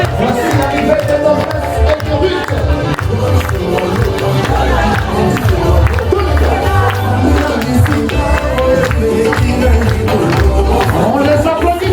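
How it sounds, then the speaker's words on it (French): Guests at a twins' birthday party in Lyon cheer and applaud for the arriving girls, a loud sustained crowd roar with clapping over thumping party music throughout. "On les applaudit très fort s'il vous plaît."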